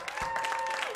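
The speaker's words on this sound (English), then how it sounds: "Let's give yourselves a big round of applause." Studio audience applause at a Chicago comedy show taping, a brief dense wash of clapping with a faint cheer mixed in.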